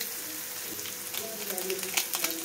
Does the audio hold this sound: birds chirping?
no